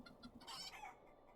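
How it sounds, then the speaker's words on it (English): A chicken in The Lord of the Rings Online spring festival gives a brief, soft burst of clucking, faint and alone, trailing off within about a second. "We still have a chicken."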